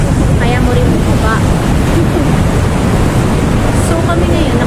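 Strong ocean waves at the shore: a loud, continuous roar of surf mixed with heavy wind buffeting the microphone, dense and unbroken from start to end.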